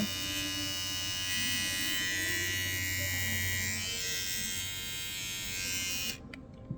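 An ECG ZH1321 electric trimmer runs with a steady, close, high-pitched motor buzz for about six seconds, then switches off and leaves near silence.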